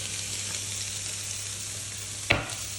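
Seasoned food with salt and pepper frying in a pan, a steady broad sizzle that carries on evenly, then one sharp knock of a utensil near the end, close and without speech.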